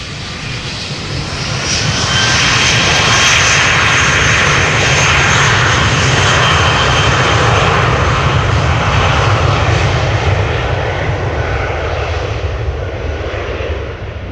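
An airliner departs to the north from runway 36L at Amsterdam Schiphol Airport, heard from close beside the runway. A loud, sustained roar of aircraft engines rises and holds steady, then eases slightly toward the end.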